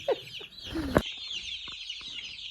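Chickens, including meat birds, clucking in a coop, several soft close clucks and short calls over a faint steady background hum, with no talking.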